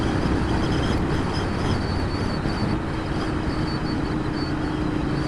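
A Royal Enfield Interceptor 650 motorcycle cruises at 60 mph in sixth gear around 4,000 RPM, with a steady, loud engine drone and rushing wind noise that hold constant throughout.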